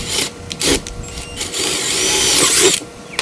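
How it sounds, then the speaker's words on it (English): A power drill whirs close by in several bursts, its pitch rising as it bites into cedar wood, with short pauses between runs. "I'll take my drill and drill holes in these corners of my cuts"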